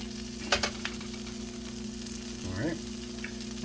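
Melted cheese sizzles steadily in a hot pan while making a grilled cheese, a continuous close frying crackle with a few sharp taps and scraping sounds over a low kitchen hum.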